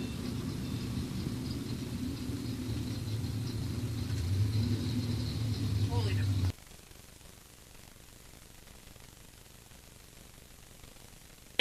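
Camaro drag car at a bracket race, a loud steady engine roar and rumble for about six seconds that cuts off abruptly, leaving faint background noise.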